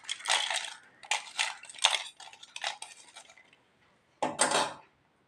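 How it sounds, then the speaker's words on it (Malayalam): A metal spoon clinks and scrapes in a dish during juice making, with several short bright rattling knocks in a row, a pause, then one final clatter. "സ്പൂൺ ഇടുകയാണ്."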